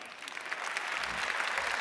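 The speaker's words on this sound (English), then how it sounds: "Applause for Dan." A large conference audience breaks into applause, a dense, even wash of many hands clapping that swells slightly and stays steady, heard from within the hall.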